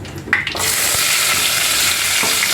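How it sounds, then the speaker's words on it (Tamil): Onions dropped into hot oil with sun-dried vathakkai burst into a loud, steady sizzle after a brief clatter, the frying hiss continuing evenly throughout. "வத்தக்காய் நல்லா காய்ஞ்ச உடனே வெங்காயத்தை போடுறேன்"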